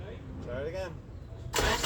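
A Porsche 944 engine cranks but fails to start, a short, loud burst of starter noise at the very end following a brief voice.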